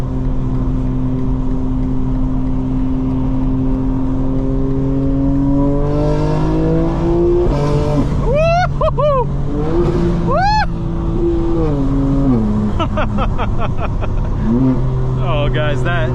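A 2024 BMW G82 M4 Competition xDrive with an upgraded exhaust revs hard while driving, its engine note climbing and dropping through repeated shifts with sharp rising pulls, loud and close from inside the cabin.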